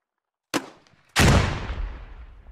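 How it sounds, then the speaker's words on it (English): Gunfire in the military shooter Squad: a sharp single shot, then after a short gap a loud blast that rolls into a long, fading rumble with scattered crackle, close by. "They're now putting fire down the street."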